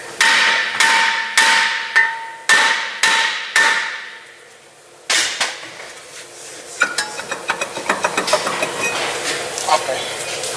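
Sharp metallic hammer blows strike a Genesis G70 Brembo brake disc to knock it off the hub, about ten loud ringing hits at first, a brief pause, then quicker, lighter clanks and tapping.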